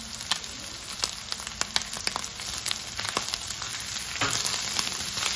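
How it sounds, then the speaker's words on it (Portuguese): Tuscan sausage frying in a pan with bay leaf, paprika and oregano, a steady close sizzle dotted with sharp pops and crackles that build slightly toward the end, with no voices. "a linguiça tá fritando"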